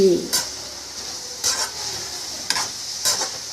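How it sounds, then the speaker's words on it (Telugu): Ginger garlic paste and coriander powder masala being stirred in a hot pan for a cluster bean dish, four brisk scraping strokes over a soft continuous sizzle, close and without speech. "ఇప్పుడు మొత్తానికి ఒక్కసారి కలపాలి"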